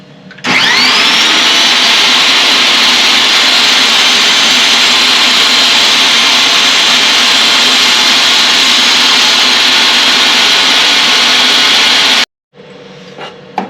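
A power saw rips a strip of wood to width for a cigar box ukulele fingerboard, spinning up and holding a loud, steady whine for about twelve seconds before cutting off abruptly, followed by faint workshop clatter.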